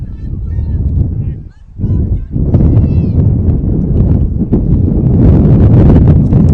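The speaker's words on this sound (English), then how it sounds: "And the wind is picked up again." Steady wind roars across an open outdoor field during a high school boys soccer match, a continuous low rumble buffeting the microphone that dips briefly and then returns loud, with faint honking birds in the mix.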